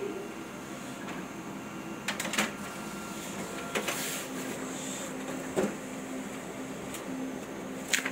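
A Kyocera TASKalfa 1801 copier runs a test print, with a steady mechanical hum and whir, several sharp clicks and clunks of paper feeding, and a faint tone, no speech over it.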